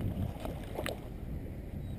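A small boat moving on water, with a continuous low rumble of hull and wash and a brief splashy burst near the middle, close to the microphone and steady, with no voices.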